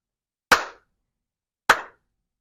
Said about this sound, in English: Let me do 3 claps.